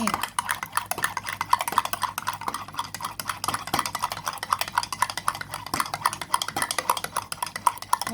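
A spoon whisks a drink into foam in a garden, fast continuous rhythmic clinking and swishing against a cup, close and steady throughout.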